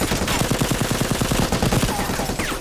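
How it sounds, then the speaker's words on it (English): Rapid automatic gunfire from a gritty Italian crime drama, a dense burst of closely spaced shots rattling for about two seconds over a noisy soundtrack, then tapering off. "You just shoot into the house."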